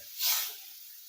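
Washed worms are fried in a pan to dry them out, giving a brief, soft sizzling hiss that swells and fades within a second.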